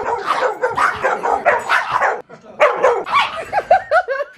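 A dog gives a string of close yips, whines and short barks, ending in rising whimpering squeals.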